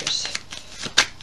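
Vera Sibilla tarot cards shuffled by hand up close, a quick riffling burst with a few crisp snaps, brief and clear with no talk.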